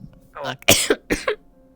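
A few harsh, close coughs in quick succession, loud and raspy, with brief pauses between them.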